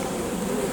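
A swarm of honey bees buzzes steadily around a box, a dense, continuous close hum with no pauses.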